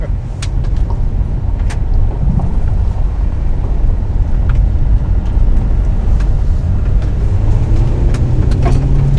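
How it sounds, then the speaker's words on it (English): A Hyundai rally car's engine revs hard through the full range on a clear road, a loud, steady drone with wind buffeting throughout and no talk. "Oh, we're using the full rev range."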